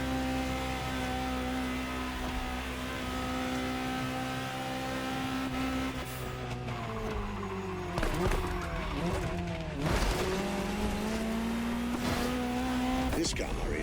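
A Ferrari GTO supercar, the Gran Turismo Omologato, drives in The Crew Motorfest. Its engine holds a steady loud drone, then rises and falls through gear changes and revs, with brief tire squeal, under a talking voice.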